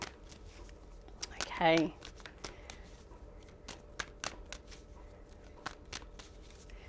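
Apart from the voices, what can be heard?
shuffling tarot cards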